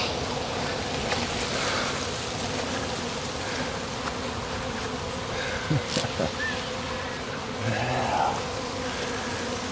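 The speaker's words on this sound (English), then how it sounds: "you hear lots of buzzing while you're doing this" Bees buzz densely around a swarm, a continuous drone close by with individual insects whining past, joined by brief knocks and handling sounds.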